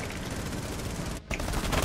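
Rapid gunfire in the video game Rainbow Six Siege, a dense fusillade of automatic shots filling nearly two seconds with only a brief gap, loud and continuous with no talk over it.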